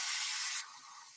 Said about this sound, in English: I'm just taking some pixie spray and spraying the back of this because we're going to do some ink blending